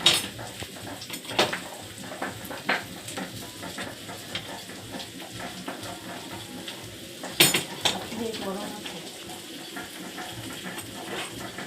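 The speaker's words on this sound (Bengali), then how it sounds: "আর মশলার সাথে আলু আর পনিরটা কষিয়ে নিয়েছি, এখন মটরটা ঢেলে দেবো" Peas tipped into a pan of potato and paneer frying in spices, with a steady sizzle, stirring scrapes and occasional clinks of a spoon against the pot, close and busy throughout.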